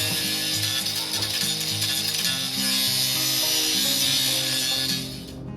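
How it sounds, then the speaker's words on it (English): An angle grinder bites into a wooden stick with a harsh, continuous high whine and grinding rasp, its motor pitch shifting as the cut progresses, loud and close with no talking. "Start with the other tool. Get to the sketchy angle grinders."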